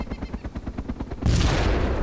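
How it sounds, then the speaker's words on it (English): A grenade explosion in DayZ, a loud blast bursting in after about a second of rapid, rhythmic thumping, then a lingering roar to the end. "Somebody's throwing grenades my way."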